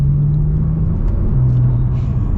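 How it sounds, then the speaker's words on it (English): Modified 1,000 horsepower Porsche 911 Turbo heard from inside, a steady loud low engine rumble with a sustained droning tone that dips and returns, no talk over it. "I love the turbo noise."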